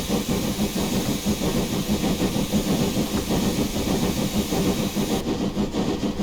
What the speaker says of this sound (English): We'll leave the throttle wide open, see if we can burn off some of this steam and get the safety valves to go shut off.